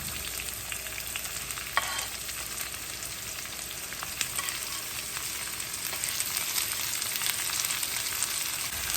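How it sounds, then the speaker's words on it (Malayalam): Onion frying in a pan for beef masala, stirred now and then: a continuous close crackling sizzle with occasional scraping clicks, growing slightly louder toward the end, without any speech. "ഒണിയൻ ഇട്ട് കൊടുക്കണം, ഉള്ളി ഇട്ട് കൊടുക്കണം"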